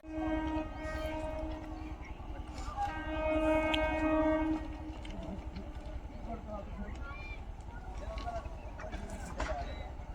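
A Lalgola–Ranaghat EMU passenger train pulls into Murshidabad railway station, sounding a loud sustained horn before a steady rumble of rolling wheels continues, with a voice talking over it.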